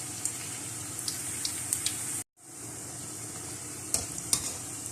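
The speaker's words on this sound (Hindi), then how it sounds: "तो फिर आप चम्मच इनमें हिलाएं।" A spoon stirs pakoras frying in oil, giving a continuous close sizzle with small clicks of the spoon, a sudden brief drop to silence midway, then the frying resumes.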